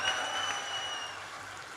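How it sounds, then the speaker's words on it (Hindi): An audience at a stage comedy poetry show claps in a dense, continuous burst, steady and fairly loud throughout without voices on top. "ताली बजाओ"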